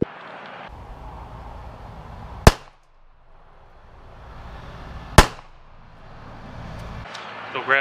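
Two sharp pistol shots from a .22 LR handgun fired at Safe Vest body armor, each a loud crack with a short ring-out, spaced a few seconds apart over a steady outdoor hum.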